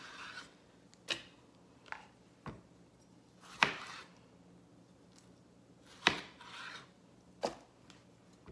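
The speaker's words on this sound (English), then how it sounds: "So I'm taking these green onions, it's about 4 of them, and I just cut the ends off and then cut them in half." A knife chops through green onions on a cutting board during salsa prep, a handful of sharp, widely spaced cuts with quiet gaps between them.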